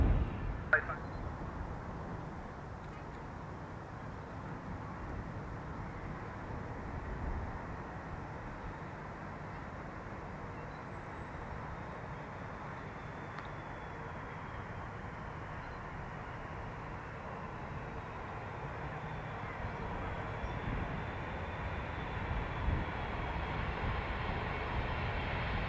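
An airliner lands on Schiphol's Polderbaan runway in a very strong crosswind, its engines making a steady, distant roar with rushing wind throughout the long stretch.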